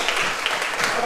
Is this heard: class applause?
yes